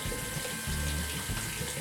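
Water runs from a newly installed Moen faucet into a cultured marble sink, a steady close splashing stream that lasts the whole short moment without speech.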